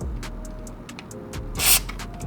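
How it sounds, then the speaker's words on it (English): WD-40 sprayed onto a car's sway bar link nut, a short hissing aerosol burst rising loud near the end, over a low steady background hum with a few light clicks. "I'm gonna spray a bit of WD-40 to penetrate"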